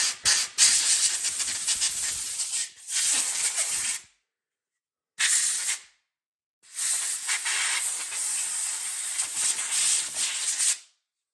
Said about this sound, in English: The best way I've found to get those off is compressed air.